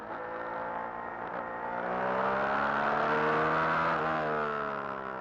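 The engine of a 1970 Ferrari 312 racing car, raced at the Monaco Historic Grand Prix, gives a high, harmonic wail that climbs in pitch and loudness and then eases slightly.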